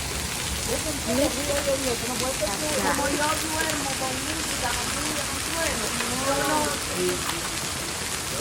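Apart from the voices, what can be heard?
hail falling in Greeley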